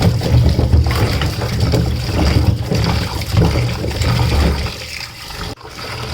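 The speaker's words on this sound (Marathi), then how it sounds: "हळद धुवून काढायची." Turmeric roots are washed clean of soil in water, a loud, close, continuous splashing and sloshing with churning low rumble and trickles, steady throughout with a brief pause near the end.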